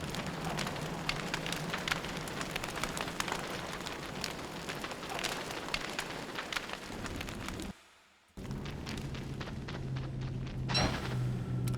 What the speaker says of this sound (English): Yes, even in the winter, you can have like rain underground.